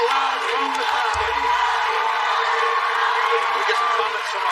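Live crowd at a TV singing competition finale whooping and cheering in a continuous roar, with a low thump partway through and no clear speech.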